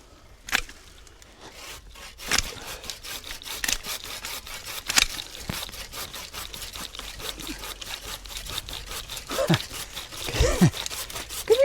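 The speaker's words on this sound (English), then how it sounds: "You're sawing one piece and holding on to another one" Hand saw cutting through a tree branch outdoors while clearing growth for a countryside view, with irregular rasping strokes and scraping rubs, fairly close, broken by occasional knocks and louder bursts near the end.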